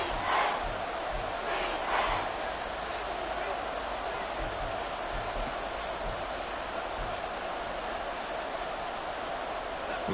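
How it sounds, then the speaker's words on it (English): A football stadium crowd roars steadily in the fourth quarter of a close game, a continuous loud din with a play-by-play commentator talking over it. "This crowd doing all they can."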